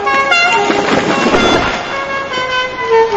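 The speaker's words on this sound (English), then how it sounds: "Then suddenly, there is a loud honking noise." A car horn honks loudly and continuously in a close, blaring burst that wavers in pitch for a few seconds.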